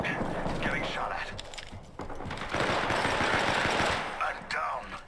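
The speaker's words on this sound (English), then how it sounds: "Getting shot at." Rapid automatic gunfire from an Apex Legends firefight crackles in dense bursts throughout, loud and near, with a brief lull before a heavier sustained volley and a voice speaking underneath.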